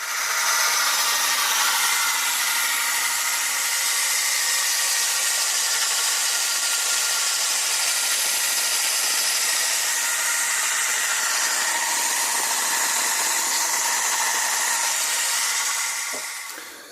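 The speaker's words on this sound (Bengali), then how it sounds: "এই হচ্ছে সেই আমাদের মেশিন প্যালেট মেশিন সেম কোম্পানিরই নেওয়া" A Heavytech feed pellet machine on a single-phase motor, used to make goat feed, runs steadily with a loud, continuous grinding and whirring roar that holds at an even level throughout and fades only at the very end.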